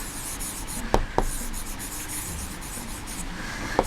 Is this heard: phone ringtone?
no